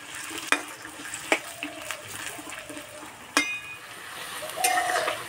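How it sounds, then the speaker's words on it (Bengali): Potatoes frying in well-heated oil over medium heat for an Ekadashi potato-peanut fry crackle steadily while a spatula scrapes and clinks against the pan in sharp, irregular strokes, close and moderately loud. "তেল ভালোভাবে গরম হয়ে গেছে, এবার আলু দিয়ে দেব। মাঝারি আঁচে আলুগুলো ভেজে নেব।"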